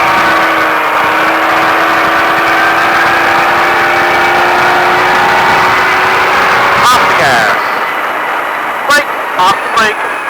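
Engine of a Baja truck accelerating on a Las Vegas course, a loud, sustained rising drone that holds and then drops away, followed by a few brief sharp bursts near the end.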